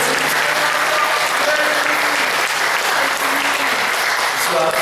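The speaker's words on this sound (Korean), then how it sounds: "주님 앞에 다시 한번 영광의 박수 뜨겁게 드리겠습니다" A church congregation claps together in a dense, continuous round of applause during a mission festival service, steady and loud from start to finish.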